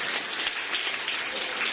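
A crowd applauding at the closing day of a children's values camp honouring Mohan Maharaj, dense continuous clapping that fills the space evenly, steady and moderately loud with no voices on top.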